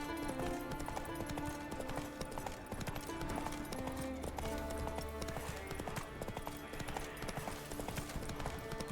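The horse Roach gallops in The Witcher 3 video game, a quick, steady clip-clop of hooves running throughout amid game music and ambience, moderately close.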